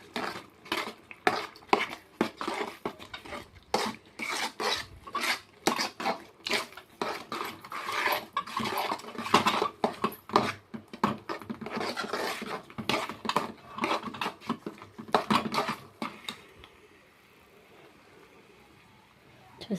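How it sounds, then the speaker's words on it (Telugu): A spoon stirs Karachi halwa rich with ghee in a pan, giving rapid, regular scraping and clinking strokes against the metal that continue for most of the time, then stop, leaving quiet. "బాగా కలియబెట్టాలి"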